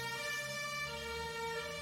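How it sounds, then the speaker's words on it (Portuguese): A faint, steady siren wails in the distance with a continuous tonal drone and no voices. "desculpa a sirene"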